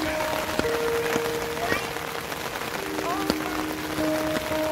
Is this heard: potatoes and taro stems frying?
no